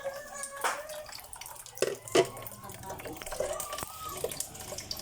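Running tap water splashes over leafy vegetables being washed in a sink, with a few louder clatters and splashes. Someone talks over the steady flow.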